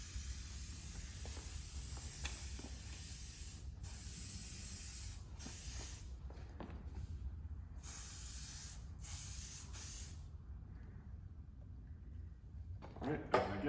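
Hairspray hissing from a can onto a man's styled ballroom hair in several sustained bursts separated by short pauses, close and fairly loud.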